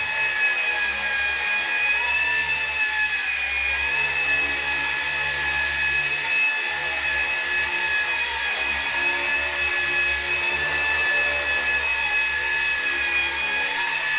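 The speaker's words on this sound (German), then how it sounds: "Lass ihn einfach mal hier starten." A WLtoys XK K200 four-channel RC helicopter with gyro and optical sensor spins up and flies, giving a steady, close, high-pitched rotor whine that stays constant throughout with no talking.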